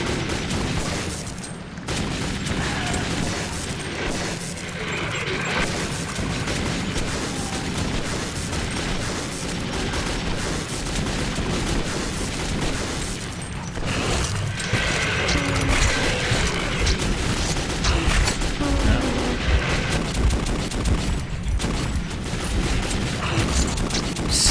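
Dense, continuous gunfire and booming impacts in the video game Metro 2033, with a shotgun in play, loud and sustained throughout with repeated blasts and crashes.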